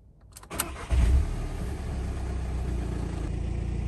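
A camper van engine cranks briefly, then catches and settles into a steady, close idle rumble with no one talking.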